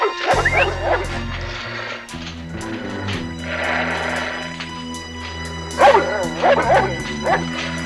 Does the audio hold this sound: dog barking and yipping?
yes